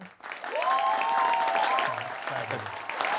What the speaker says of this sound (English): That's the most applause for a recruiter that I've ever heard.